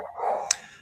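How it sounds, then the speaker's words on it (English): A dog lets out one short, somewhat muffled bark at a delivery person, heard alone indoors. "that's my dog Zeke saying hi to the Amazon guy"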